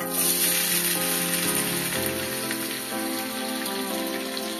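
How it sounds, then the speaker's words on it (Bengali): Cut, washed potatoes drop into hot oil in a kadai and fry with a steady, loud, close sizzle that continues without a break. "এই যে আলু কেটে রেখেছি, ধুয়ে রেখেছি। এই এখন কড়াইতে দিয়ে দিচ্ছি।"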